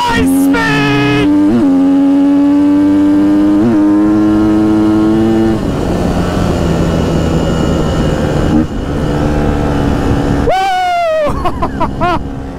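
A Husqvarna FC250 dirt bike is ridden hard at full throttle. Its sharp engine whine climbs in pitch through several gear changes, then it screams up against the rev limiter near the end. It is loud and close throughout.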